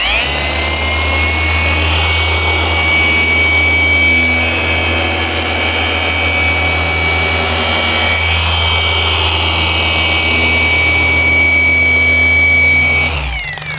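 A ShineMate car polisher running at speed 6, a loud, continuous motor drone with a steady high whine and a low rumble underneath, unbroken for about thirteen seconds before it cuts off, close and with no speech.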